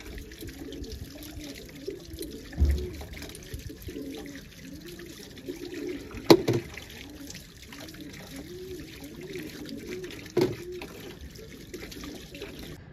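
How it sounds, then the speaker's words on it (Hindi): Carrots are washed in water in a home kitchen, a faint trickle and soft splashing running throughout with a few sharp knocks of handling in between. "सारे गाजर अच्छे से धो के रख दिया"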